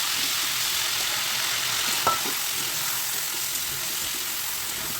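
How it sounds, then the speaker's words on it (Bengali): Chicken fries slowly over low flame in a pan with butter, whole black pepper and dried red chillies for a chicken korma, giving a steady, even sizzle with one small clink partway through and no voices. "চিকেনটাকে খুব ভালোভাবে আস্তে আস্তে এখানে ভাজতে হবে।"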